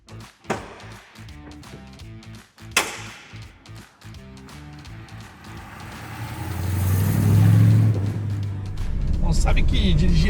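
Dodge Charger R/T driven on asphalt, its engine rumbling and then swelling into a loud, rising roar as it accelerates, after earlier clicks and knocks close by.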